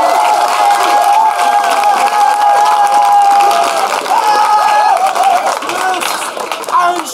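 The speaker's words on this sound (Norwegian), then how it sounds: "Får vi en stor applaus for begge to" At a Norwegian hip-hop rap battle, a crowd applauds and cheers loudly throughout, with whistles and shouts over the clapping and voices calling out among them.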